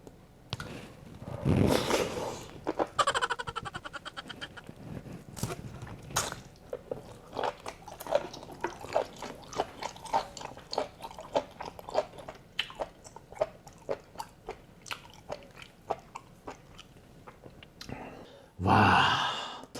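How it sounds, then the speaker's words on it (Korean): Raw beef tripe dressed with sesame oil and salt being chewed close up, a steady run of crisp, rubbery crunches and wet mouth clicks with occasional breaths, loudest at the start and end. "이번엔 천엽을 한번 먹어볼게요"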